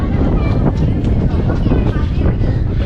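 Strong wind buffets the microphone outdoors at the Statue of Unity, a steady loud broadband rumble lasting throughout with no clear pauses.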